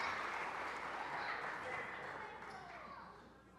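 Applause at an awards celebration: a faint, continuous wash of clapping from a crowd that slowly tapers off toward the end.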